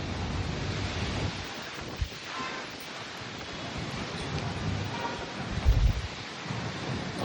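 Wind blowing outdoors in rainy weather, a continuous rushing roar with gusts buffeting the microphone and low thumps swelling near the end.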